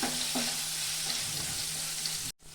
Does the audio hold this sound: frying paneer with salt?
yes